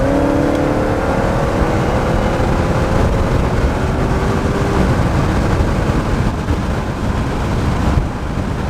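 Dodge Hellcat accelerating hard in track mode, heard as a loud, steady engine roar from inside the car with heavy wind rush and a rising tone throughout.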